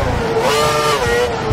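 Formula 1 race cars in the F1 2012 video game roar at full throttle, a loud, steady high-pitched engine whine that rises and shifts in pitch as the cars race close together.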